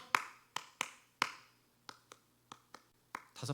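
Scattered hand claps from a church congregation during a Sunday worship service, about ten sharp, separate smacks spread unevenly across a few quiet seconds.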